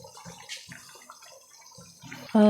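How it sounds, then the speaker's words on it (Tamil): Soft bubbling and sizzling of tomato kochi sauce boiling in a pan, with scattered pops and gurgles, close by, ending in a brief louder clatter. "பாருங்கள் அந்த சலன்னு கொதிக்கிற சத்தம்"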